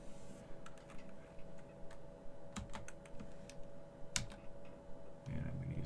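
Keys clatter on a computer keyboard as a username is typed during a server operating system install, a close run of irregular clicks and taps over a steady low hum.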